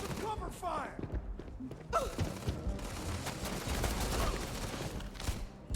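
Rapid bursts of video game gunfire in Fallout or Starfield crackle and thump throughout, dense and steady, while someone shouts and talks over the shooting.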